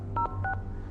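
A planted mobile phone rings beside a close microphone, giving two short bursts of paired electronic tones, loud and near, over a low steady hum.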